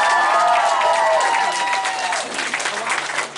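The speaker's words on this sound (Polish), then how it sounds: "brawa!" A school anniversary audience applauds volunteers with loud, sustained clapping and some cheering, while a tonal voice or music line rises and falls over the crowd.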